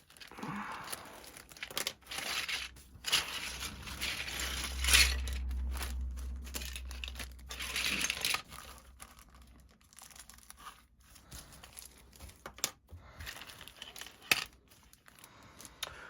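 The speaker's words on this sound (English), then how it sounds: "Let's open up the bag, let's have a look." A plastic bag of parts for an Airfix QuickBuild Ford Mustang GT model kit is pulled open, giving close, irregular crinkling and tearing rustles that swell and fade over about sixteen seconds, with no talking.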